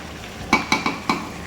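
A spoon stirs chicken kosha curry in a pan with four short, close scraping strokes over a faint sizzle, no one speaking.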